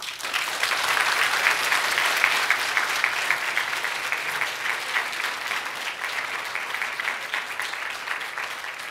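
Sustained audience applause fills a Stanford Asian American awards ceremony in 2019, a dense, steady clatter of many hands clapping, holding loud and even for the full stretch before easing slightly toward the end.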